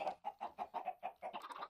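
Chickens in Minecraft cluck in a quick run of about nine evenly spaced, close, clipped calls, the last few rising in pitch, with no voices over them.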